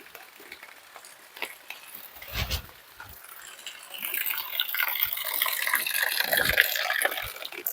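Freshly picked guavas washed under running water, a steady splashing stream that starts softly and grows fuller and louder halfway through, with a few knocks and clatters at the start.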